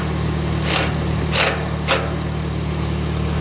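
A 1954 IH McCormick Farmall Super C tractor engine runs with the PTO engaged, giving a steady, close idling drone broken by three brief hissing bursts, with no talk.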